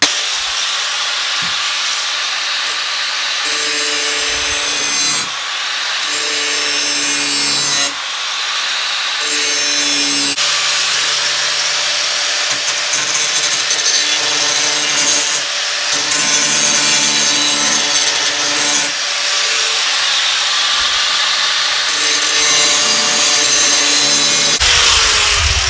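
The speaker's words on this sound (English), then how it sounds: "I just have a basic grinder with a metal blade on it. So all I'm going to do is just work that very lightly and very quickly." A basic grinder with a metal blade works along a lawn mower blade in a steady, harsh, hissing grind, loud and continuous with slight shifts in pitch as the pressure changes.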